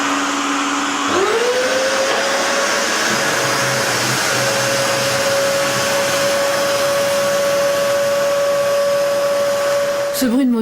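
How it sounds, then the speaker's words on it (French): A household vacuum cleaner motor starts up and runs loud and steady, its whine rising to a constant pitch and holding alone until it cuts off at the end. "Typiquement un aspirateur qui, quand vous êtes en train de passer l'aspirateur, vous n'entendez pas le téléphone sonner"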